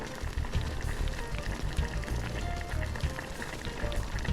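Pork chops cooking in a pan, giving a steady, dense sizzle and bubbling with no pauses, close and fairly loud throughout.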